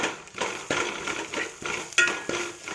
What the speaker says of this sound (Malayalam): അതും ഒന്ന് കൂട്ടി ഇളക്കുക